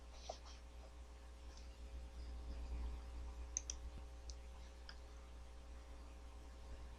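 A computer mouse clicks faintly a few times, scattered light ticks over a quiet, steady room hum with no talking.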